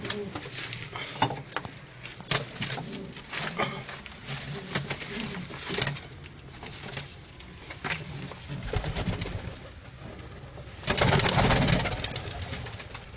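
Pigeons coo softly around their cage, low murmuring calls mixed with faint rustling and a steady engine hum in the background, with a louder burst of fluttering toward the end.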